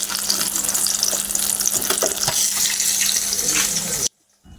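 Small hilsa fish fry in a pan of oil, giving a steady, close, bright hiss with faint crackles that runs on evenly and then cuts off abruptly near the end.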